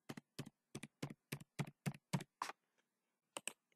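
Rapid, even keystrokes on a computer keyboard as a password is typed, about nine crisp taps in a row, a pause, then two more, close and quiet with no voices.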